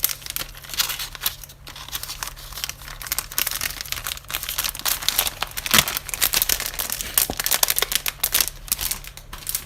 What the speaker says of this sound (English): I do have time to die cut some of these vases